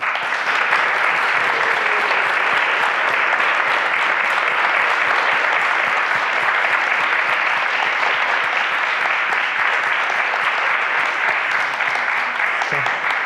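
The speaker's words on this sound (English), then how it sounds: "please join me in applauding Cheddar Gorgeous" A library audience gives sustained, even applause for drag artist Cheddar Gorgeous, a loud wall of clapping that holds steady without letting up.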